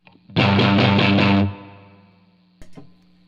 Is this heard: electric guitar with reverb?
yes